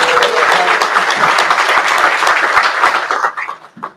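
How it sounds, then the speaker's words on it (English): Audience applause at an industry leadership panel and happy hour, loud dense clapping from a room of people that holds steady and then tapers off near the end. "let's give them a round of applause"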